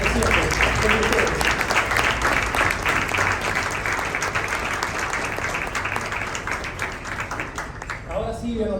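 Audience at an environmental report presentation gives sustained, loud applause, a thick continuous patter that thins slightly near the end as a voice begins speaking.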